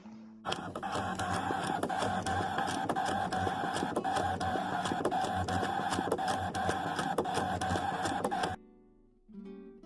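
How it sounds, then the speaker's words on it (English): A ScanNCut cutting machine cutting out shapes gives a steady, whirring mechanical drone with rapid ticking motor movements. It runs continuously for about eight seconds, then stops abruptly, leaving faint handling noises. "So I'll take this to the machine and cut out a few of these."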